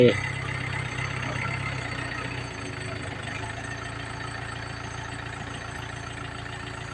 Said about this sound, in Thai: จะได้ยินเสียงรถไถ